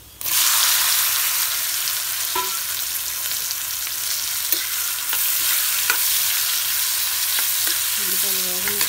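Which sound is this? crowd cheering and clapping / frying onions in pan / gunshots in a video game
frying onions in pan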